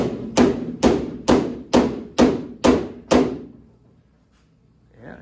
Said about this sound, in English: I need a bigger hammer.